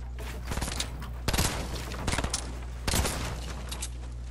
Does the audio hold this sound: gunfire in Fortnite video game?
yes